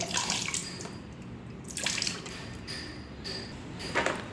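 Water with a little phenyl cleaner being readied in a bucket for mopping a kitchen floor, heard as soft sloshing and splashing with a few brighter splashes, close and fairly quiet.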